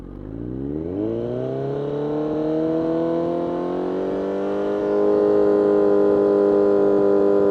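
A Kawasaki Z1000 motorcycle engine climbs from idle to around 6,000 rpm and holds a loud, steady rev close by, with its tone rising sharply early on and staying high to the end.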